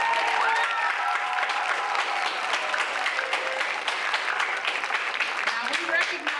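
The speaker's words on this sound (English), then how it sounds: "I think that deserves a loud round of applause." Audience at a junior high academic awards ceremony applauds the girls' team, steady sustained clapping filling the room at a constant level, with scattered voices mixed in.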